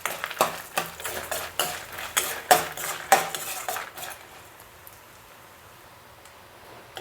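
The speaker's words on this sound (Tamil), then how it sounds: "சிம்லேயே வச்சு நல்லா வறுத்துக்கோங்க." Urad dal roasts in a dry pan on low heat, its grains rattling and clinking under quick repeated stirring strokes for about four seconds, then the pan goes nearly quiet.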